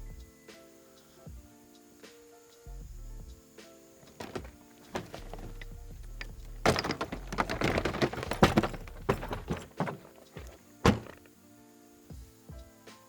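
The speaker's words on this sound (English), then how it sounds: "The Elantra comes with this hands-free smart tailgate system" The hands-free smart tailgate on a Hyundai Elantra Sport 1.6L Turbo opens: a scattered run of clicks, thunks and mechanical rattles, busiest in the middle, with a few closing knocks.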